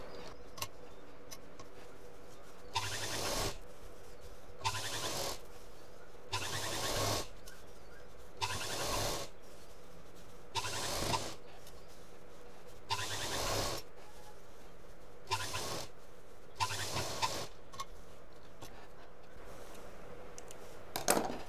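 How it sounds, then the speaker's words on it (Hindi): A sewing machine stitches a handbag along a drawn line in repeated short bursts, each run of rapid, close needle ticking separated by brief pauses. "अब उसके नीचे जो लाइन खींची थी उस पर मशीन चलाएंगे"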